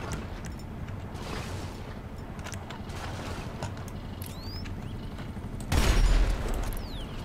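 Rapid gunfire from a Christmas-themed shooter video game, a steady busy crackle of shots throughout with a louder burst near the end, no talking.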